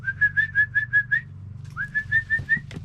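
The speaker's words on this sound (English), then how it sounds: "I will whistle again and see if they come again." A person whistles to call puppies: a close, clear run of six short, evenly spaced whistle notes, a brief pause, then another quick series of rising notes.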